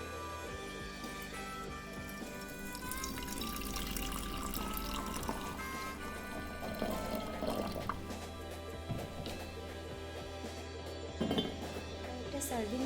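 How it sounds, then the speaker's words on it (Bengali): Steeped green tea strained and poured into a teapot, with clinking of dishes and a steady liquid pour running throughout at moderate volume under faint background sounds. "আর গ্রিন টিটাকে ছেঁকে আমি এই টিপটটাতে ঢেলে দেব।"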